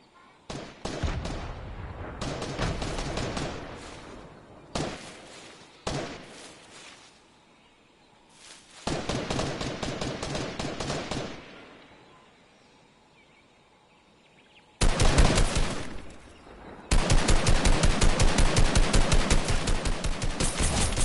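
A big gun firing in a video game, heard as long loud bursts of rapid automatic fire broken by short pauses, with the later bursts denser and sustained, close and without talk.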